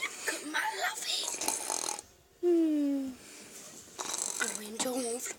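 A person snores once with a single loud rasping breath between stretches of talk, and people chatter before and after it.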